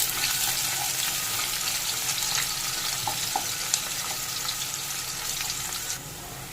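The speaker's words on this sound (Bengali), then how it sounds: "এবার পেঁয়াজটা একটু ভেজে নেব" Chopped onion sizzles in oil with bay leaf and cumin seeds for a fish curry, a dense, even frying hiss with light stirring clicks throughout that eases off at the end.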